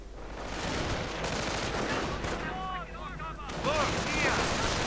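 Gunfire and explosions from a real-time strategy game battle rattle continuously in dense bursts, with the clatter of combat layered throughout.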